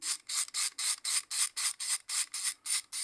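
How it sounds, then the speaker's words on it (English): A loose ratchet on a cheap DeWalt screwdriver clicks in a steady run of about a dozen evenly spaced bursts, close and crisp, with no talk. "This ratchet on here is so loose."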